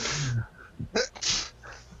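A sharp, close sneeze bursts out after a short intake of breath, with a few softer breathy sounds around it.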